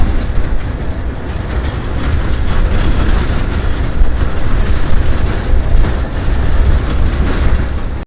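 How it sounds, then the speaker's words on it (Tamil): A safari vehicle rides through the desert near Makkah, Saudi Arabia, with a loud, steady rumbling engine and road roar that never lets up. "இப்போ நாங்கள் வந்து சஃபாரியில் போகிறோம் சஃபாரியில் பாருங்கள் வண்டி"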